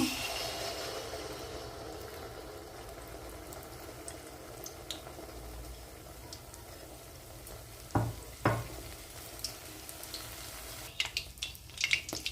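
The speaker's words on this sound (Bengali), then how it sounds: "তেলটা আমার গরম হয়ে গেছে এবার আমি এই এক হাতা করে সুজির ব্যাটার দিয়ে দেব" Semolina batter fritters frying in hot oil give a steady low sizzle throughout, with a few louder clanks of a ladle or pan near the middle and toward the end; no one speaks.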